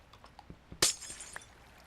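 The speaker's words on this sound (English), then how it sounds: "just get rid of this glass for a second" Minecraft glass block being broken: a single sharp, bright shattering crash with a brief tinkling tail, preceded by a few soft footstep-like taps.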